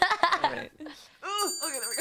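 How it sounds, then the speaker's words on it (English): A loud in-game bell from Minecraft rings with bright, sustained tones in the latter half, following a stretch of chatty talking at the start. "The bell is loud."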